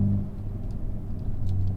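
Hyundai i30N hot hatch engine rumbling steadily at close range, a deep, loud drone with a faint rise in revs near the end, no voices.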